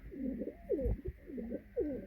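Pigeons in a loft give repeated soft rolling coos, several calls in a steady rhythm, fairly quiet and close, with a faint steady hum behind.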